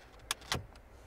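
A key slides into the ignition of a Renault Laguna that will not crank or start, making two quick, close metallic clicks against a quiet background.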